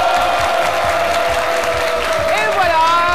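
A TV studio audience breaks into loud, sustained applause with cheering during a midday talk show, steady clapping filling the room throughout.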